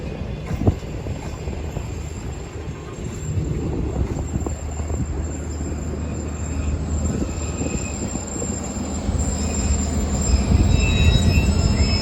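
A train rests at Jungshahi railway station, with a low steady rumble and a faint high squeal from the wheels. The sound grows slightly louder near the end.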